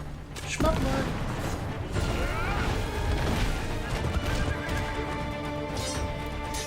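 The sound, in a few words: horse neighing and hooves in a video game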